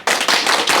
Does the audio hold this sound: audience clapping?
yes